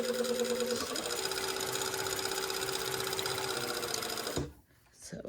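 A sewing machine runs steadily while stitching a pocket seam, a fast even mechanical whir that stops near the end, with a voice talking under it.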